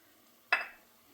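Spices hit hot oil for a drumstick curry with a single sharp sizzle that bursts up loudly and quickly fades to a soft hiss, close by in a quiet kitchen.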